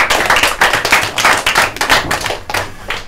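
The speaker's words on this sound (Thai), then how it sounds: "ปรบมือครับ" A group of primary school students clapping together in a classroom, a dense, steady patter of many hands filling the clip without any talk over it.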